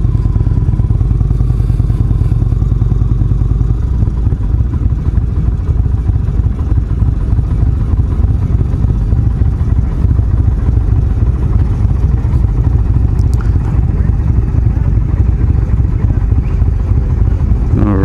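An Indian Springfield Darkhorse motorcycle engine idles close by with a deep, steady, loud rumble and a continuous low throb, plus occasional faint clatter.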